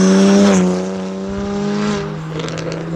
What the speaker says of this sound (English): I would not daily a car that was this loud. This is insanely loud.